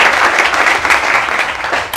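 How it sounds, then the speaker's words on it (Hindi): Loud audience applause breaks out as a dense, continuous burst of clapping for about two seconds and tapers slightly at the end. "यार तालियां बजाओ"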